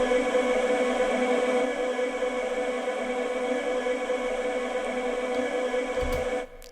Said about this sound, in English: This is an Atmos, I don't know how it's called, but it's an atmospheric sound.